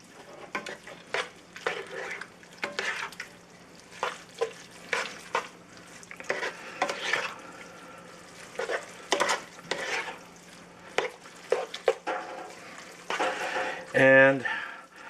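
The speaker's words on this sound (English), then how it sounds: "Give it a good mix." Macaroni being stirred with shredded sharp cheddar in a pan, giving a run of soft, uneven scraping and squelching strokes with brief louder bursts, fairly close, with some speech nearby.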